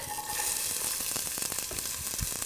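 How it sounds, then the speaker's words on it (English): Onions frying in hot olive oil in a pan make a close, steady sizzle with crackles and a few sharper pops and utensil knocks, with no talking. "We are just going to get the pan going with onions and olive oil. It's nice and hot."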